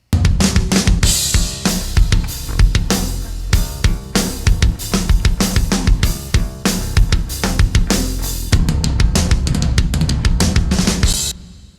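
A metal mix bass bus, processed with Pultec-style low and presence boosts and a Pro-Q2 rumble cut, pounds out dense, punchy distorted low-end hits in a driving, loud, continuous rhythm without talk.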